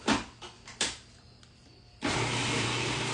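A blender whirs through burger ingredients with smoked paprika, kicking in loud and steady after a few clunks and knocks of the lid and jar, then running continuously without talk.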